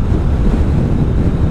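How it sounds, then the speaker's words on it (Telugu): Strong wind buffeting a motorcycle rider on the Pangong to Ladakh route on a rainy ride day, a steady loud low roar of wind noise rushing over the microphone throughout, with no voices. "ఇక్కడైతే గట్టిగా గాలులు వీస్తున్నాయి."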